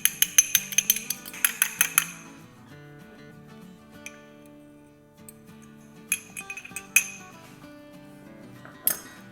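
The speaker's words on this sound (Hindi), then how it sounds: "तो ये अंडे को तोड़ लेते हैं और फेंट के आधा डाल देंगे" An egg cracked and beaten in a bowl while making puri paratha: a quick series of sharp clinks of a utensil against the dish, then quieter scraping and a few scattered taps after a pause.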